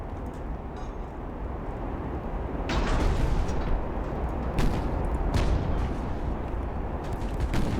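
Rapid secondary gun batteries firing from a warship in the naval game Ultimate Admiral: Dreadnoughts, a dense rumbling barrage with sharp cracks breaking through the steady roar of battle.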